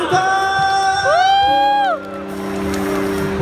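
A crowd at a Thai mall concert for a singer roars and cheers as a host's amplified voice rises and falls over it, the excited shouting loud and continuous, fading slightly toward the end.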